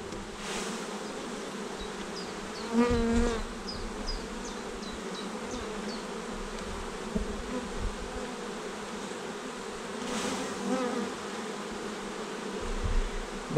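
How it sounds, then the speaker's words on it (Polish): A steady swarm of bees being shaken off a hive frame hums and buzzes throughout, with occasional louder individual buzzes passing close by against the dense drone. "Więc od tyłu tutaj strząsnę sobie pszczoły."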